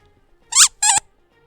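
A fluffy blue cow plush dog toy squeaks twice in quick succession, two short bright squeals close up with silence around them.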